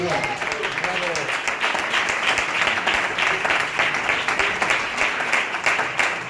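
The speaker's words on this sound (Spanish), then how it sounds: "Un aplauso a la palabra del Señor" A church congregation breaks into lively, sustained applause, many hands clapping densely and close at a steady level, with voices mixed in underneath.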